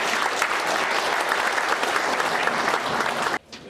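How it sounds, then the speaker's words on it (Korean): A crowd applauds a speaker at a Saenuri Party forum on history textbooks at the National Assembly Memorial Hall, dense and loud steady clapping that stops abruptly just before the end. "여러분 큰 박수로 맞아주시기 바랍니다"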